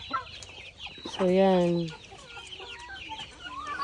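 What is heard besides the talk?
chickens clucking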